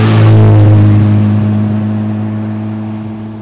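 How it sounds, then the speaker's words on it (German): A Ferrari 330 GT with its 4.4-litre Colombo V12 and overhead camshaft runs close and loud, a smooth harmonic engine drone that holds briefly before slowly fading away. "wird der 330 GT durch einen Colombo V12 Motor mit obenliegender Nockenwelle und einem Hubraum von 4390 Kubik."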